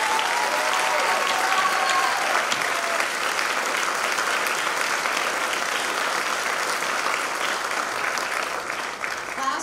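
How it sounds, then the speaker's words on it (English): An audience at a senior honors night claps in steady, loud applause that fills the room throughout. "So let's give a round of applause to Jessica Garrison."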